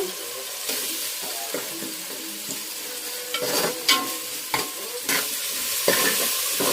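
Vegetables with chopped tomato and a pinch of turmeric sizzle and fry in a pan, a continuous close hiss broken by repeated scraping stirs of a spatula, with no talking.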